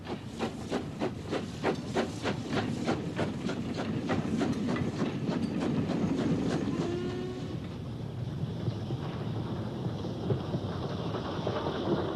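A Fairburn steam locomotive hauls a train past a former station site, now an oil terminal, in 1960s Pennine Yorkshire; rhythmic exhaust beats and clanking wheels build loudly, then fade as it moves away.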